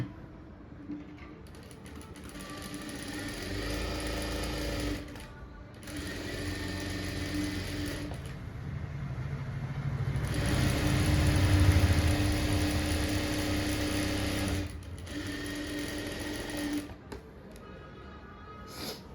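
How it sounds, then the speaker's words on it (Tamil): An electric sewing machine stitches a blouse sleeve lining in several runs of steady whirring and clatter, separated by short pauses. "இதை தைச்சி எடுத்துக்கிடலாம்"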